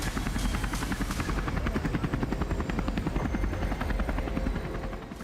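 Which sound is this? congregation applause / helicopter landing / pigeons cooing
helicopter landing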